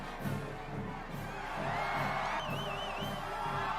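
A film crowd cheering and whooping at a public spectacle in a Spider-Man 3 scene, a continuous swell of many voices with shouts rising over it, mid-distance and moderately loud.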